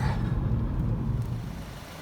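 A 2014 Audi A5 Cabriolet 2.0T Quattro cruising in seventh gear barely over idle, a steady low engine drone and road rumble heard from inside the cabin, with no talking.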